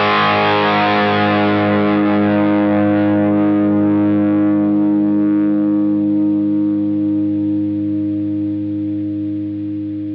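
An electric guitar played through a Phenyx Pro PTG-11 wireless guitar unit with a distorted effect rings out as a sustained chord that slowly fades over about ten seconds, loud and alone.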